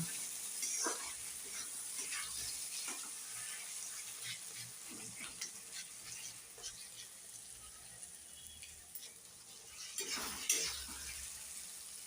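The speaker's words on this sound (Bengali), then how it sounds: "ভালো করে এগুলো মিক্সড করে নেব।" Spices being stirred into a lotia fish curry in a hot pan, with a soft steady sizzle and scraping stir strokes throughout, a few louder clatters near the end.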